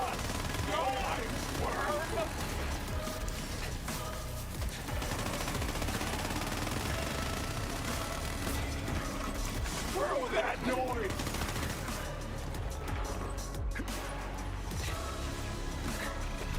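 Rapid gunfire in the video game Borderlands 3, dense overlapping bursts and explosions running continuously under a game soundtrack, at moderate level.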